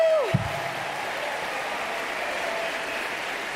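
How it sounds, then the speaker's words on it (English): A large audience claps steadily through a hall at the 2024 Goldman Environmental Prize ceremony, a dense, even wash of applause that holds at the same level throughout. "let's give another round of applause to the next generation of environmental leaders here tonight"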